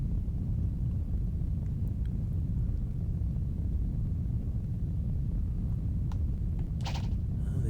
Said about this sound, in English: Listen to that rumble. That is the whirlwind out of here.